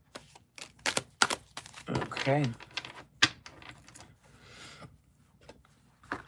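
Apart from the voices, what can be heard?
shuffling a deck of tarot cards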